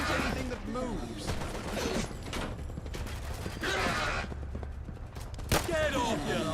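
Gunfire breaks out during a firefight in the Fallout London video game: repeated bursts and single cracks crowd the mix, with loud shouting voices over and between the shots.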